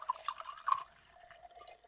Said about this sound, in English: And I'm gonna pour it into my Uncle Nearest glass.